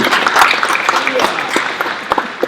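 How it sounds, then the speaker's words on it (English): Crowd at a Japantown community book launch claps in a short burst, fairly close and uneven, with scattered sharper claps fading over a couple of seconds. "big round of applause, first of all, for you getting here"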